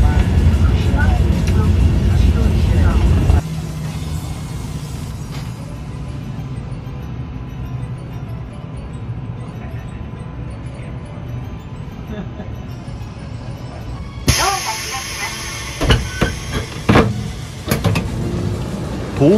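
Interior of an H5 series Shinkansen Yamabiko train running at night toward Fukushima, a steady low rumble and rushing hum that drops as the train passes from a tunnel, with a sharper shift near the end, under ongoing speech.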